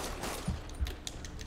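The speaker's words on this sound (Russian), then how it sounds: "Сейчас тут палят из всех стволов, шакалы." Faint, distant gunfire in the video game Marvel's Spider-Man, a few soft thuds and pops spread across a steady background wash, quiet and indistinct.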